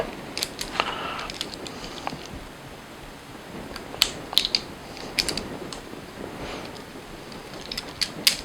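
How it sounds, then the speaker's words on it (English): Electrical wires being stripped for a surface-mounted LED panel light, heard as scattered small snips, clicks and scraping of tool on insulation over a quiet background, with no talking. "it's a little easier to go ahead and strip our wires."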